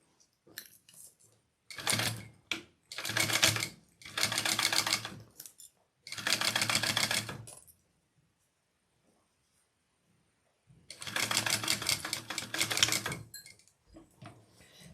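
Sewing machine basting a zipper onto a crossbody bag, running in several bursts of rapid stitching separated by pauses, close and fairly loud, with no talk over it.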